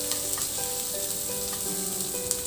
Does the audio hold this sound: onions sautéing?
yes